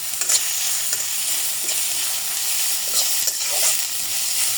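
Onions fry in mustard oil for crisp beresta, a steady bright sizzling hiss throughout with faint stirring scrapes, close and unbroken, no voices.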